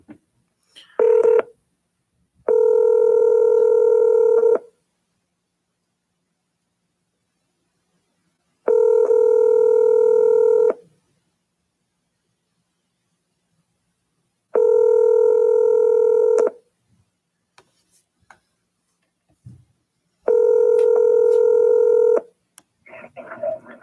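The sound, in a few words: telephone dialing tones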